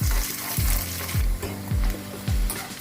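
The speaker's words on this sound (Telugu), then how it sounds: "ఇలాగా కొద్దిగా వేగిన తర్వాత ఇంగువ అనేది టోటలీ ఆప్షనల్ అండి." Spices and a pinch of asafoetida fry in hot oil for a village-style horse gram dish, a close, continuous sizzle with rhythmic scraping pulses about every half second as the tempering is stirred.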